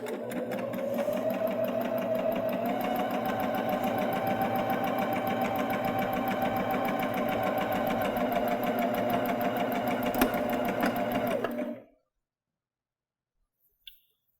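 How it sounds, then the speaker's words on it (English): Baby Lock Jazz II sewing machine stitching denim, a steady, fairly loud mechanical whir with a rapid needle rhythm running unbroken for about twelve seconds before stopping abruptly, with a faint click afterward. "I'm going to stitch. So here's the denim."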